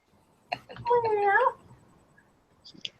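A single drawn-out meow, close and fairly clear, rising and falling over about half a second, with a few faint soft sounds around it.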